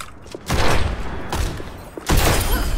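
Widowmaker sniper rifle shots in Overwatch 2, three sharp, heavy cracks spaced about a second apart, each with a short booming tail, loud and close.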